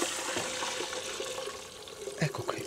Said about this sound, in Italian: metto qui dentro, aggiungo l'acqua